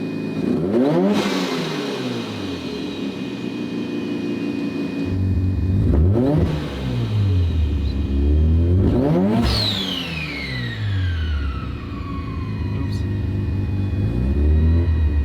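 A car running a new turbo on otherwise stock parts revs hard in repeated loud surges, each climbing and falling, with a high turbo whine and whistle sweeping down after one pull and a steady idle rumble between.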